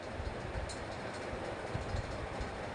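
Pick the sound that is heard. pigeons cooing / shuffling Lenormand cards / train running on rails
train running on rails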